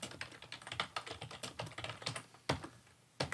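Computer keyboard typing while working in an Excel spreadsheet, a quick run of close, crisp key clicks in uneven bursts with a few louder strokes near the end.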